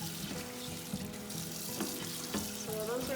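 Strawberries being rinsed under a running kitchen tap, a steady stream of water splashing into a sink with occasional clinks and shifting of fruit nearby.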